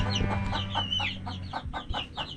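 Chickens clucking nearby in a quick series of short, rhythmic clucks and squawks, fairly faint against low background hum.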